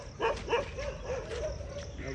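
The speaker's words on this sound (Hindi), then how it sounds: "देखो, देखो भाई ये जो आगे खड़ा है शिकारी कुत्ता है।" A hunting dog barks on a road in a few quick, fairly faint yelps at the start, followed by softer whining tones, with no voices in between.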